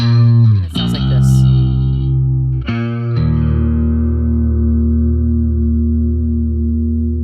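Post-punk bass tone run through the Waves Kaleidoscope plugin: sustained, distorted, chorus-warped bass notes with a shimmering modulated sheen, a few quick note changes early, then one long ringing note, loud and close, no talking.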